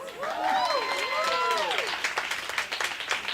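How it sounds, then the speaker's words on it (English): An audience at a Black poetry slam claps and cheers, a steady wash of applause under a host's voice speaking over it. "We're clapping."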